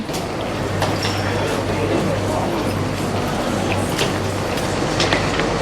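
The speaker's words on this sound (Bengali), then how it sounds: "এই সেই ট্রেন" Rumble and hum of a terminal 3 airport shuttle train riding along, a steady loud rolling drone with a low tonal hum and occasional clicks, with faint voices nearby.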